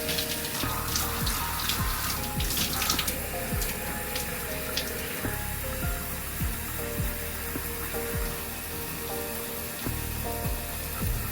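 Tap water runs steadily into a sink throughout, a continuous splashing rush during a shampoo and rinse of locs, with small knocks and clicks scattered over it and no talking.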